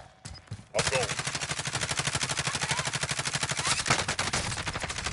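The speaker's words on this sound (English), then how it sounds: "Taking fire." Loud, sustained video game gunfire: rapid automatic bursts rattle almost nonstop after a brief quieter start, with voices blending into the din.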